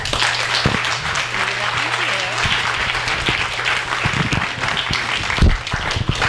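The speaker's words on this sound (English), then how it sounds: "Please give a warm round of applause." Warm audience applause at an evening literary reading and conversation, steady and dense across the whole stretch, with a faint low hum underneath and a few sharper claps standing out.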